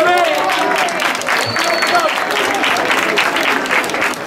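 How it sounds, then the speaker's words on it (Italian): A school audience breaks into loud, sustained clapping that fills the room, with scattered voices and cheers mixed into the dense applause. "Io innanzitutto farei un applauso per questi alunni,"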